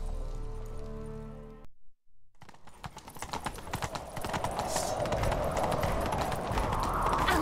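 Horse hooves clatter in The Witcher 3 on PC, starting after a tonal passage and brief silence, then building into a fast, rhythmic gallop that grows louder and denser toward the end.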